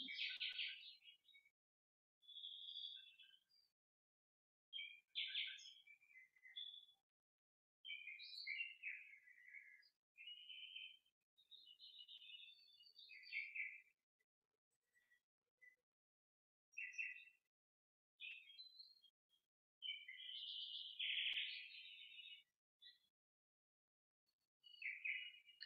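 Birds chirping and singing outdoors, picked up faintly through an open window on a computer microphone, in short bright bursts of tweets and trills separated by silent gaps, with no talking.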